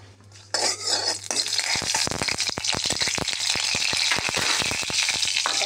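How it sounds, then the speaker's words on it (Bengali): Dried red chilies frying in oil in a pan over a gas flame, stirred with a utensil: steady close sizzle with repeated sharp scraping and clinking strokes against the pan, no talking. "গ্যাস জ্বলছে, অ্যাড করে দিলাম তেল। এবার নাড়িয়ে চাড়িয়ে দেখে নেব।"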